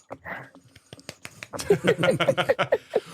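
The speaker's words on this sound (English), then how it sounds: "Golf clap." A few soft, scattered claps, a deliberately quiet golf clap, come close and sparse at first, then give way to people talking.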